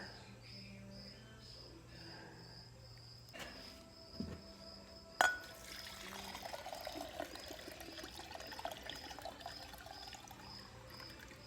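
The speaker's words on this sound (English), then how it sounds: "Put a rag under there, it's going to drip a little bit." Water trickling and dribbling from an Evinrude ETEC 150 HO outboard motor on a Glastron CVX16 boat during winterizing, a faint pouring trickle that grows more noticeable after a couple of sharp clunks partway through.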